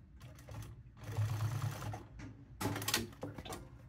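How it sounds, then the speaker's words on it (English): A sewing machine stitching leather patches onto hats, running in a fast continuous mechanical whir with a brief pause before starting up again, close and loud with no talk. "you can definitely lose control of your sewing machine and get a nice crooked line"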